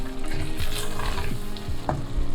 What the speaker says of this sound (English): I'm gonna give it a final mix.